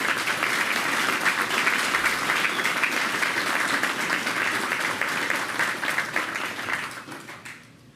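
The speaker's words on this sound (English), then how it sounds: "let's give him a round of applause to thank him" A crowd at a street renaming ceremony for a firefighter applauds Captain Blasio with sustained, even clapping that holds for several seconds before tapering off to quiet.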